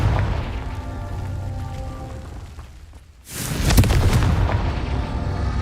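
A Confringo blasting spell goes off in Hogwarts Legacy: after a brief lull the sound bursts into a loud, broad explosive roar that rumbles and crackles for a couple of seconds.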